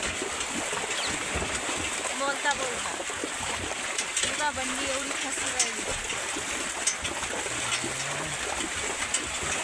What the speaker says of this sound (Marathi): पुढे तर लयच पाणी वाढू राहिलं या नाल्याचं आणि सारं तोंडातही जाऊ राहिलं ना, अंगावरही उडू राहिलं